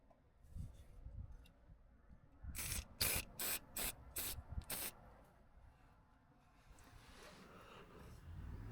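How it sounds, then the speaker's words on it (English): Penetrating oil sprays onto rusted suspension bolts on a 2011 Mini Cooper SD Countryman diesel, heard as a run of five or six short, crisp hissing bursts in quiet surroundings, with faint handling noises before and after. "Given everything a good soak with penetrating oil."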